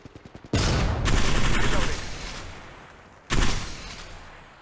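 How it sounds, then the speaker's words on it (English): Loud bursts of automatic gunfire during an Apex Legends match, a sustained volley followed by a second sharp barrage, with faint voices underneath. "They're shooting at me."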